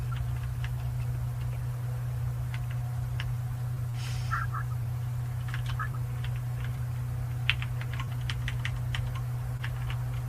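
Irregular bursts of clicking keystrokes on a computer keyboard run throughout, with short pauses between flurries and a brief burst of laughter partway through, over a steady low electrical hum.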